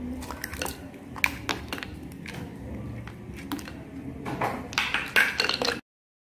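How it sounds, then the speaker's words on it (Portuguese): Ice cubes dropped into a bowl of cut potatoes sitting in cold water, giving scattered close clinks, squishy knocks and small splashes, with a flurry of sharper hits toward the end. "E os cubinhos de gelo novamente."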